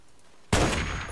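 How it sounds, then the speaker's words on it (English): An explosion goes off in the video game Fallout 3, a sudden loud blast after a quiet moment, followed by a sustained roaring rumble. "The explosions were fucking with my aim."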